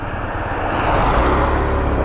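A Yamaha Majesty 155 scooter engine revs on a road, a loud, close, steady drone that swells slightly over a couple of seconds.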